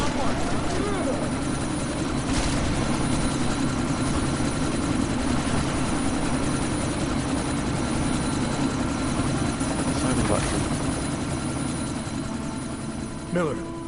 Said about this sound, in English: chopper's been grounded